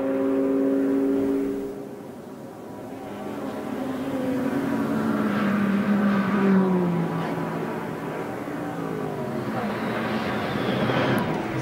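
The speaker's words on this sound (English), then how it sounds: "push the limits of the 500 horsepower V10 engine to keep the Manthey-Porsche at bay" An Audi R8 race car with a 500 horsepower V10 engine roars past in a 24-hour endurance race at the Nürburgring, the loud engine note rising and falling through gear changes, alongside other race cars.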